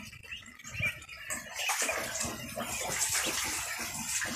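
Water from a tap fills a tub for ducklings, beginning as a faint irregular splash and then swelling into a steady, nearby gushing rush that holds to the end, with no talking.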